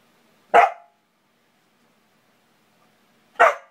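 Two sharp, loud barks from a dog named Ranger ring out about three seconds apart indoors, each a single short bark followed by silence.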